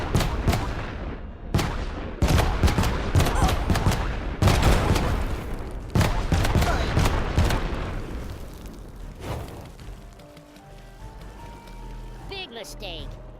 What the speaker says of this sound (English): Carpet bomb that we received earlier comes in useful at this juncture.